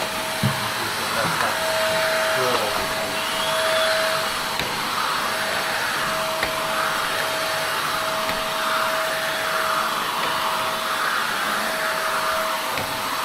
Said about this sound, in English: I'm thinking the vacuum cleaner is getting plugged up again because it's starting to have some weird sounds when I'm sucking it